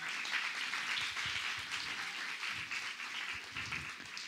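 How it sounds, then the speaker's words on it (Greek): Audience at a vegan food talk applauds a guest speaker, a steady, fairly loud wash of many hands clapping that sustains without pause. "χειροκρότημα να έχει"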